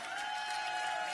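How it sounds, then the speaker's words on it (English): Gala audience at a World Cup finals event applauding and cheering, a dense, steady wash of clapping from a crowd, sustained without pause. "And can we fill that minute with applause and cheers?"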